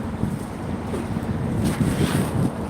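Strong, cold wind gusts steadily across the microphone in an exposed outdoor spot in Yalova, a loud, rough rushing roar with no talk.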